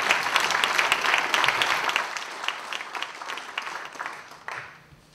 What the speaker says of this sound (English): Let's give the Gemsters another round of applause.